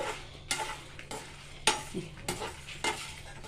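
Lentils and spices, with drumstick leaves for a spicy powder, fry and are stirred in a pan, giving a steady soft sizzle broken by several sharp scraping stirs of the spoon, close and fairly quiet, with no voices.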